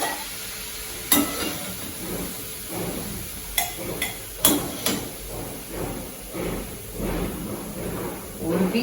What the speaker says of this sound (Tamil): இப்போ இதை அடுப்பு ஆஃப் பண்ணிவிட்டு இதை அள்ளிடலாம்